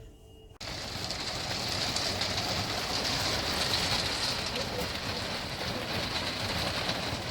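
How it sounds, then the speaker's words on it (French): Steady, dense rain hissing without a break during a thunderstorm after a brief quiet start, a broad wash of noise with no voices. "Il pleut, il fait de l'orage"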